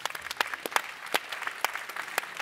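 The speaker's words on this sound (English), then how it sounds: "Give yourselves a clap." An audience at the close of an event claps together in a dense, steady round of applause, near and sustained with sharp individual claps standing out.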